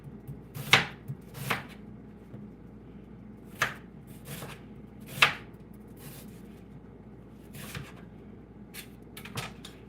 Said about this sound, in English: now I'm just gonna cut my onion up here. And I'm gonna do a julienne